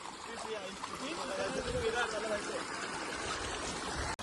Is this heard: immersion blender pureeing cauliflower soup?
no